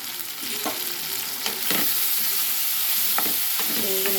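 Chicken pieces and drumstick vegetable pieces fry in a pan for a spicy curry, giving a steady loud sizzle with a few scraping stirs of a spoon throughout.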